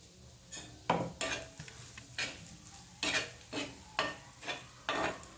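Peanuts are roasted and stirred in oil on a flat tawa for peanut chutney. About eight rhythmic scraping strokes of the spoon sound over a soft sizzle, close and fairly loud, with no voices.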